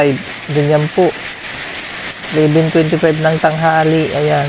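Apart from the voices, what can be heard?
heavy rain with hail and strong wind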